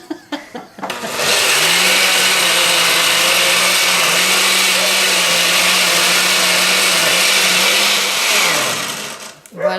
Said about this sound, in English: now we're going to go full blast liquefy, or blend